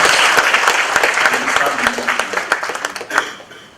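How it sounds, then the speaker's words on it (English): Warm audience applause at a business forum panel session, dense clapping that starts loud and gradually thins and fades over a few seconds. "Please give them a very warm round of applause."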